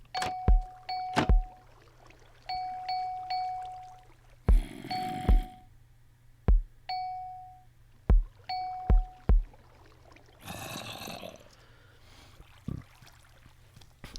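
Short repeating bell dings and sharp drum thumps from a Minecraft Morse code puzzle, arranged in irregular clusters of dots and dashes over steady background noise, with a few louder splashy bursts between groups.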